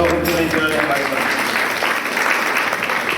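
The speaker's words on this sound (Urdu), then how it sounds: "تالیاں بجائیں ان لوگوں کے لیے جنہوں نے ہماری مدد" A church congregation claps together at a Sunday service, a dense, loud burst of applause filling the room, with voices mixed in beneath the clapping.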